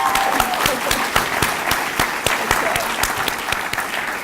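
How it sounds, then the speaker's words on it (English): An audience at an awards ceremony applauds the finalists, with loud, dense clapping and a few distinct sharp claps standing out near the front, steady throughout with a faint crowd murmur. "So let's give a round of applause for the finalists."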